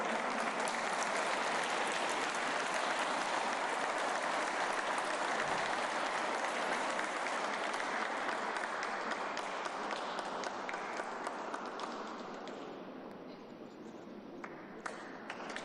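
An audience at a Mexico City Teachers' Day ceremony applauds the award-winning teachers, with sustained dense clapping that holds steady for a long stretch and then thins out toward the end.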